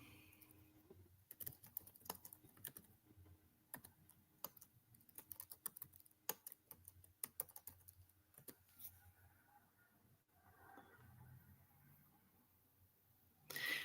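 Typing on a computer keyboard: irregular runs of light key clicks, close and faint over a low steady hum, with no voice.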